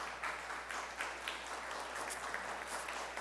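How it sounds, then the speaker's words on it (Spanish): Faint, distant applause from a church congregation during a Sunday service, a soft continuous patter of clapping with a low hum beneath. "dale un fuerte aplauso al Señor"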